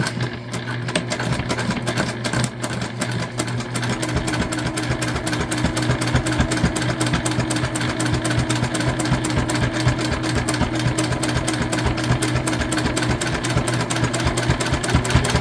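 A sewing machine stitching through a thick foam dish drying mat to make a pouch, a fast steady mechanical chatter running nonstop, loud and close.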